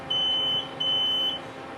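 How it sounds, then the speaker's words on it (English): Two steady electronic beeps, each about half a second, sound from an elevator in a Toronto subway station to signal it is going down, clear over a low background hum. "Oh, it goes beep beep for down down."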